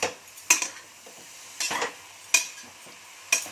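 Vegetables for an Odia santula curry frying in oil, heard as a few sharp sizzling bursts and stirring scrapes in a pan, spaced apart and close by, without talk.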